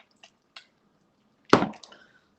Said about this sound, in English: you can see now it's just mixing in here with all these liquids